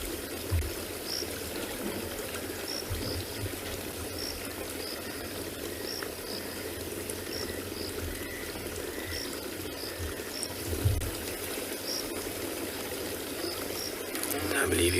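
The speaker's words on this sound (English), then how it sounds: "I believe you guys can only hear the running water." Steady running water of a stream in the bush fills the scene as a continuous near rush and trickle, with faint bird calls above and a few low rumbles and quiet voices underneath.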